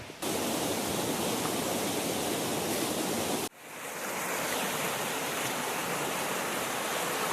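Deep Creek, a mountain stream along a hiking trail, rushes and churns in a loud, steady broadband roar close by, with a brief break partway through before the flow resumes.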